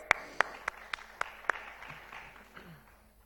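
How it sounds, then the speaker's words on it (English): Scattered sharp claps from a small group, a few distinct hand claps near the start that thin out and fade into quiet room murmur. "A big round of applause."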